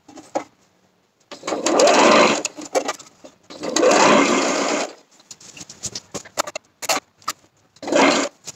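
Sewing machine stitching fabric in fast bursts, two long runs of rapid needle chatter separated by short starts and stops, close and loud with no talking.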